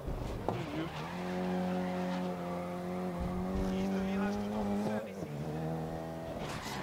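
Race car engine in the GRID racing game holding a steady harmonic drone through a four-wheel drift, with tire squeal and brief dips around a corner, while someone talks over it.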